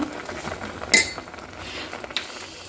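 Utensils clink and scrape briefly as Maggi noodles cooked with egg are taken off the stove, with one clear metallic knock and a softer clink afterward.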